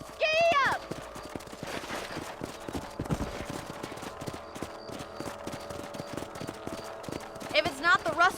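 Horse hooves clip-clop in a steady rhythm as a rider travels across a ranch in the video game Red Dead Redemption, with game voices speaking at the start and end and scattered clatter in between.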